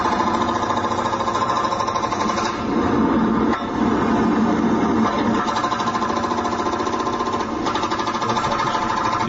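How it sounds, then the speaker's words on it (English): A jackhammer pounds in a continuous rapid rattle, loud and close, holding steady for several seconds with a brief surge of heavier impact in the middle. "Certainly think that's a jackhammer there."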